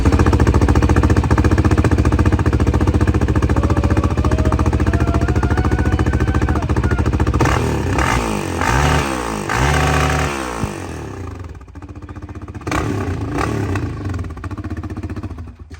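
A Yamaha Raptor 700 ATV with a modified exhaust runs loud and close, its single-cylinder engine hammering out a rapid, harsh idle that revs and dips midway before settling back into a rough, choppy rhythm.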